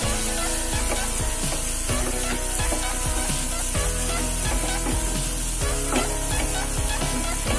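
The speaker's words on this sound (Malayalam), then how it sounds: "ഇനി നമുക്കിതിലോട്ട് ക്യാരറ്റ് ചേർത്ത് കൊടുക്കാം." Carrots and softened onions fry in a pan for kadala curry, with a steady loud sizzle and a regular run of clicking spatula strokes against the pan, heard close with no talking.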